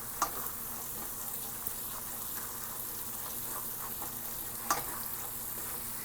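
Guyanese chicken curry spiced with Madras curry powder cooks in a pot, giving a steady, fairly quiet sizzle and fry with occasional faint stirring scrapes and a couple of soft clicks, no voices.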